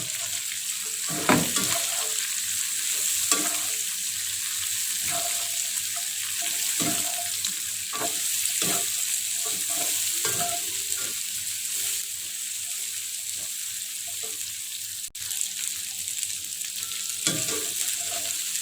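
Long beans and tofu pong being stir-fried in a pan, with steady sizzling and repeated sharp scrapes and clinks of a utensil against the metal throughout, close and fairly loud, with no talk.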